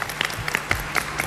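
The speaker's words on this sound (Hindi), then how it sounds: "बहुत सारी तालियां हो जाए" A short burst of clapping from a crowd, brisk and fairly close, filling the moment without any talking, applauding a young boxer.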